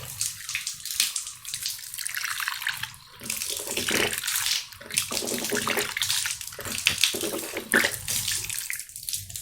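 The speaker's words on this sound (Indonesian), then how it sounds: "Kita berkumur sebanyak 3 kali." Running tap water splashes and sloshes steadily during wudhu as the mouth is rinsed three times, with brief lulls between bursts of the flow.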